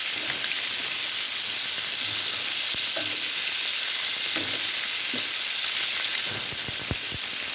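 Pieces of murrel fish fry in a pan with a steady, dense sizzle and crackle that runs throughout, with occasional soft spatters and utensil taps; no talking.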